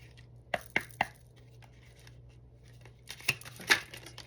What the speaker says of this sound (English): I'm going to pull 2 oracle cards to close out this reading today.